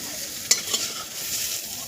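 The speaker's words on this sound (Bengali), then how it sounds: "আমার মা করছে বেগুনটা ভেজে নিচ্ছে।" Eggplant frying in oil in a kadai over a clay stove, an even hiss of sizzling with one sharp utensil tap and a softer scrape as pieces are turned.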